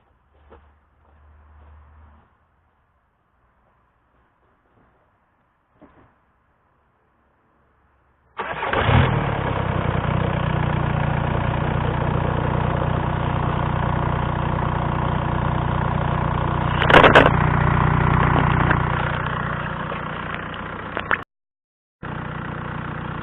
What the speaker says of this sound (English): as the engine starts running and manages to hold an idle by itself without the starter